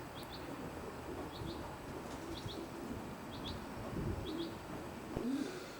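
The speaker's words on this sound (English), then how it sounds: "We've come to Cockburnspath now to look at the pigeons" Racing pigeons coo in a loft in Cockburnspath, Scotland, with soft repeated calls and faint paired chirps over a steady low background rumble, no voices.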